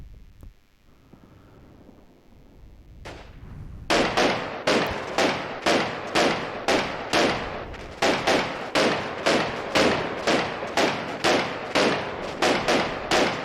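Gunfire in the Combat Mission war game: a light anti-tank gun firing high-explosive rounds, heard as a long run of loud, evenly spaced sharp bursts after a quiet start.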